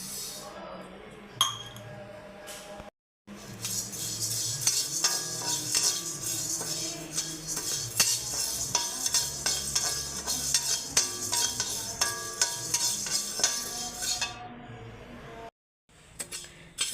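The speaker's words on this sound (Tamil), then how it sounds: "ஒரு சட்டியை வச்சு இது நல்லா செவர வறுத்துக்குவோம்" Black urad dal dry-roasting in a pan: dry lentils rattle and skitter under repeated spoon scrapes and metallic clinks, a fairly close, steady clatter that stops briefly twice.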